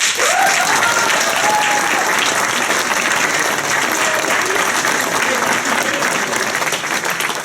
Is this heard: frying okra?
no